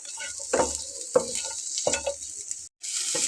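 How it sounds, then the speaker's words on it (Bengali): Garlic and shrimp fry in a pan with a steady, close hiss of sizzling, broken by several stirring scrapes and a brief dip where the sizzle nearly stops. "একটু লাল লাল করে ভেজে নিতে হবে রসুনটা আর চিংড়ি মাছটা।"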